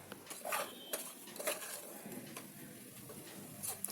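A spoon stirs tomato into a Telangana-style boti (goat tripe) curry in a metal pan, producing faint, irregular scraping clinks and soft clatters of utensil on pan.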